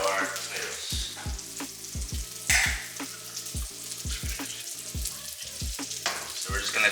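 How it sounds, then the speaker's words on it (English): Garlic frying in a pan for a tomato sauce gives a steady, moderately quiet sizzle, with repeated scraping stir strokes and clinks of a utensil in a regular rhythm. "Garlic is already starting to get brown, so this means that we need to add our tomatoes."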